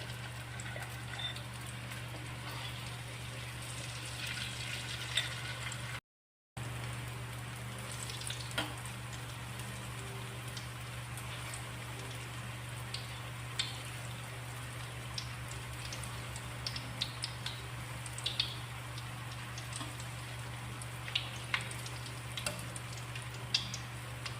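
Glutinous rice flour peanut crackers (peyek) fry in hot oil, a steady sizzling hiss with scattered crackles and pops over a constant low hum, heard alone without speech.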